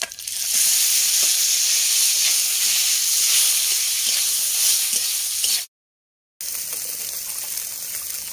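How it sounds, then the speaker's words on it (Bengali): Boiled taro drops into hot oil already spiced with dried red chilies, panch phoron and bay leaf, setting off a loud, steady sizzle that hisses continuously before briefly cutting out and then resuming. "এবার সেদ্ধ করে রাখা কচুটা দিয়ে দেবো।"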